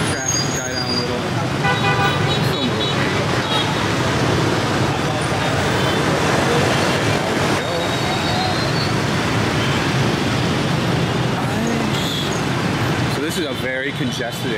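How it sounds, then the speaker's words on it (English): Dense rush hour traffic in a congested part of District 1, Saigon, Vietnam: a continuous loud roar of cars, buses and motorbikes with repeated horn toots, close by and steady throughout, with voices mixed in. "Wait, traffic die down a little."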